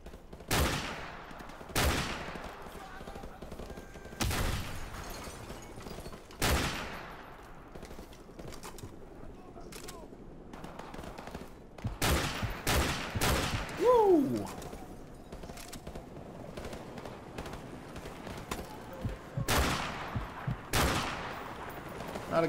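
Gunfire in Call of Duty 4: Modern Warfare Remastered: sharp, loud single shots and short bursts ring out at irregular intervals across a tense match, with players talking between them.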